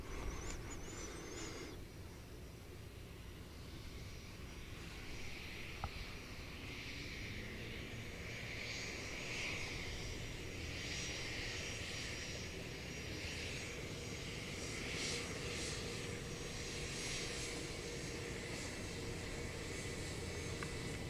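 A fixed-wing airplane's engines hum steadily from a distance on the runway at DFW while it lines up or begins its takeoff, a faint continuous roar with no talking.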